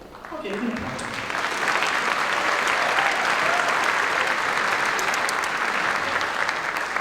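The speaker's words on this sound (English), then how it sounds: "Okay, you can clap" Audience applause at a high school marching band varsity show fills the whole stretch, a loud dense wash of many hands clapping steadily, with a few brief voices early on.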